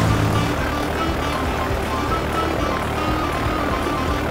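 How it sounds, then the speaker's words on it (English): A seaplane setting down on the sea near a seashell island in a children's cartoon: a steady, loud broadband engine drone with a constant roar throughout, no voices. "The seaplanes landed on the water."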